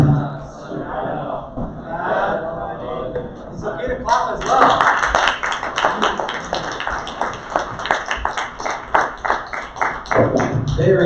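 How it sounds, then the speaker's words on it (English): Audience clapping at a 15th of Shaban religious celebration, a dense patter of many hands that swells to full, sustained applause midway and keeps going, with voices and crowd murmur mixed in near the start. "It's okay to clap as well."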